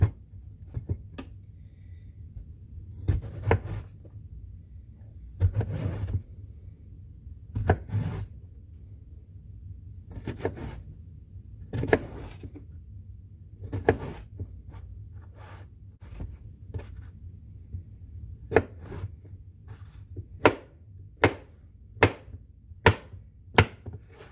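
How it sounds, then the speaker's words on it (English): A knife chops vegetables for ratatouille on a cutting board, sharp irregular knocks in bursts, some single cuts and some quick runs, growing denser and crisper toward the end, with soft rubbing between strokes. "Then we're going to slice it into 1-inch pieces. So best just to get it right in half."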